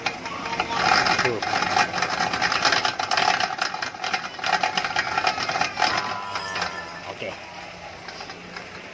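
A car with a faulty outer drive shaft or wheel bearing gives a rapid mechanical clicking and rattling near the wheel, heard over a running engine, with a short spoken word briefly in the clip.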